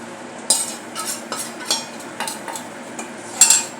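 A spoon stirs masala into crab curry in a pan: a series of irregular scraping and clinking strokes against the metal, close and clear, with a soft sizzle of oil underneath.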